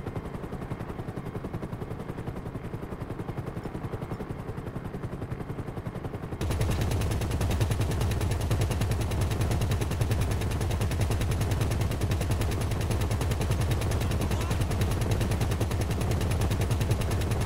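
Minigun on a Nagasaki Havok helicopter in GTA Online fires a continuous, loud mechanical stream of rapid shots that intensifies partway through, with no talking.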